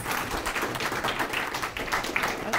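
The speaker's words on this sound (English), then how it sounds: "So let's give Andre a round of applause." A small audience at a smart home security meetup applauds after a talk, a steady clatter of many hands clapping that continues evenly throughout at moderate level.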